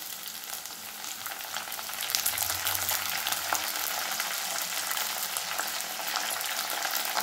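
Curry leaves frying in hot oil in a pan, a loud, steady crackling sizzle that continues without a break from start to finish, with no voices.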